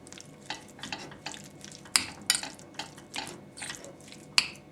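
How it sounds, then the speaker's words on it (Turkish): A spoon stirs a mixture of thyme, olive oil and tomato paste in a bowl, making repeated close scraping strokes and a few sharp metallic clinks. "Ve bunu karıştırıyorum"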